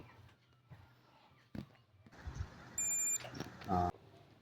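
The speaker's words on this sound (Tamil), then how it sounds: "அடுத்த ஒயரும் பீப் சவுண்ட் கேட்குது" Short electronic beeps from a continuity tester on headphone wires sound twice amid handling clatter and small knocks, each tone brief and fairly close.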